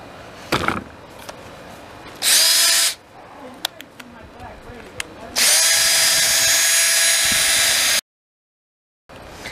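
A Ridgid cordless power tool whirs loudly against a garbage-picked mountain bike frame, stripping it to bare metal in a short burst and then a longer sustained run, with clanks and handling noises in between.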